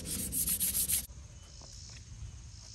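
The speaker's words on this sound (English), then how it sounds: "I'm going to hit this with just a little bit of sandpaper" Light hand sanding with 220 grit sandpaper on a budget survival rifle: a brisk, close scratchy rubbing for about a second, followed by quiet low room noise with faint small handling sounds.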